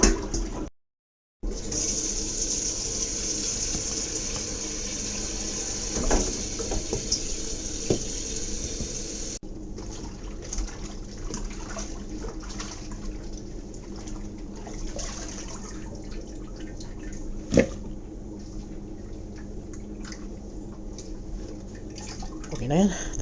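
Tap water runs steadily into a sink while frozen salmon is washed, a continuous close rush with occasional splashes and clunks, and a voice talks over it part of the way.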